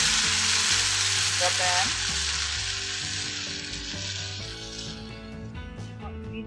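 Gram flour and thinned curd batter hitting a hot pan, setting off a loud, dense sizzle that fades slightly as it settles, with brief spoken words over the frying.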